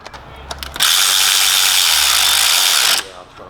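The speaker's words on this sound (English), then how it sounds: "you can slowly tighten them up like so" A power tool or ratchet runs steadily for about two seconds, tightening thermostat housing bolts on a 2002-2009 Hyundai Getz with a G4EE or G4ED engine; a few light clicks come before the loud, even whir, which then stops abruptly.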